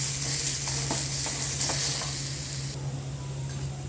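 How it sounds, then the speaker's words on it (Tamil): A pepper and cumin paste fries in oil in a pan for rasam while being stirred: a continuous close sizzle with soft scraping strokes of the spoon throughout, no voices over it. "இதை போட்டு இதில் நல்லா கிண்டி விடுவோம்"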